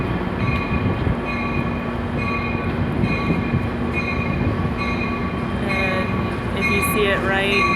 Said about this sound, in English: looks like we're waiting on the train now